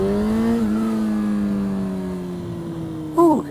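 A motorcycle engine pulls away, a steady tonal drone sliding gradually lower as it moves off, then a brief sharp rising whine near the end, heard alone without talk.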